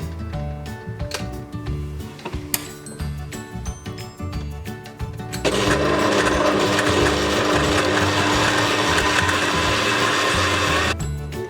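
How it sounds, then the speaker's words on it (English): A Kenwood stand mixer with a paddle attachment beats butter at medium speed, first with irregular knocking and clattering, then settling into a loud, steady mechanical whir that runs until the end. "So I'm going to beat this butter on medium speed for about 2 minutes."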